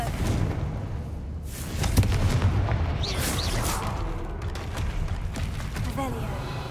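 A Confringo blasting spell explodes in the Hogwarts Legacy video game, a single dull boom amid game ambience, with someone speaking around it.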